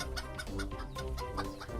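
Chicken clucking loudly and close, a rapid rhythmic series of clucks over a dense full background, with no talking.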